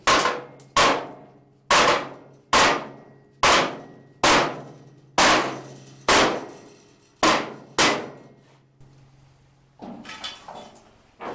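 Heavy hammer blows strike a hot rod truck's metal door area about ten times at a steady pace, each one a loud ringing clang, followed by a brief rustle at the end.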